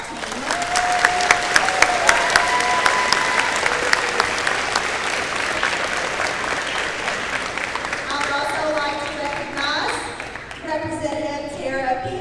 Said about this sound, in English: please give me a round of applause for our team.